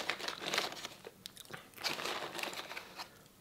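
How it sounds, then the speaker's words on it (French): Close, crisp crunching bites and chewing of dry, crunchy cured ham, in irregular bursts with brief pauses. "c'est vraiment du jambon cru, bien sec qui croustille"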